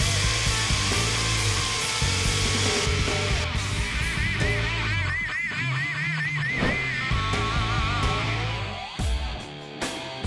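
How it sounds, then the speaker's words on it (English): A sword blade gets its edges ground after oil quenching, a steady loud abrasive whir with a wavering pitch, continuous and close, with no talk. "Now we grind the edges on the blade."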